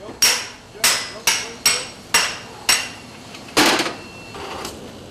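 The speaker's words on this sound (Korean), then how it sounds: "롤러를 고정시키기 위해 수십 번의 망치질이 이어진다" Hammer blows ring out while securing a roller at a dyeing factory in Pocheon: seven or eight sharp, metallic strikes in a steady, evenly spaced rhythm, close and loud, followed by a louder clanging knock and fading shuffles.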